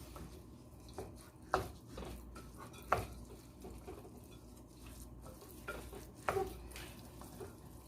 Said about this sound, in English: Traditionally, a lot of people will be scared to stir their jollof rice.